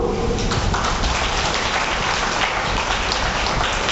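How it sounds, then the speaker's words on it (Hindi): An audience at a spiritual class claps together in a dense, loud, unbroken wash of applause that holds evenly from start to finish. "ताली तो बजाओ"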